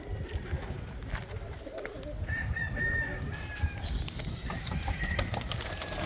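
Pigeons being pushed out of a loft in Juana Díaz, Ponce, Puerto Rico: a steady low flutter and shuffle of birds with scattered coos and calls over noisy ambience, moderately loud and continuous.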